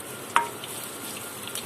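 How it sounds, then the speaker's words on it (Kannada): Tempering (oggarane) for dal, with ginger added, sizzles in a hot pan as a steady, close frying hiss broken by a single sharp click. "ಈಗ ಒಗ್ಗರಣೆಯನ್ನು ಚೆಂದ ಬಿಸಿ ಮಾಡಿಕೊಳ್ಬೇಕು"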